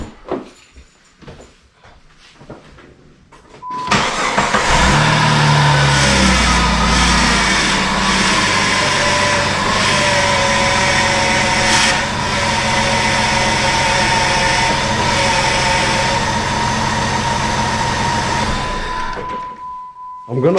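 Jeep WJ engine cranks and catches around four seconds in, then settles into a steady, loud idle that runs continuously to the end, with a faint high whine over the rumble.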